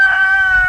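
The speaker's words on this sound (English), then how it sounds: "He's a Whiting True Blue rooster." A Whiting True Blue rooster crows, one loud, sustained, close call with a steady, strained tone lasting under a second.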